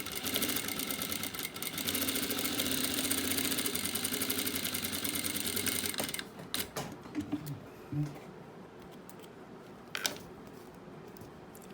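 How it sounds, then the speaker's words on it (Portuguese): A sewing machine stitching across fabric along a drawn diagonal line, running in a fast, steady mechanical whir for about six seconds, then stopping, followed by a few quiet clicks and soft handling sounds. "vou à máquina e vou costurar sobre essa reta diagonal que eu fiz em cada um deles"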